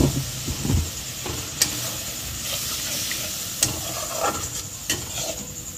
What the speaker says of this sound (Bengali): দু মিনিট এটাকে একটু ফুটতে দেবো।